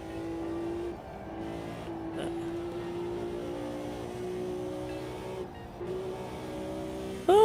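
Steady engine drone of a simulated car in the AMS2 racing game, holding a sustained tone with slight pitch shifts throughout, fairly quiet and unbroken, ending with a brief rising burst.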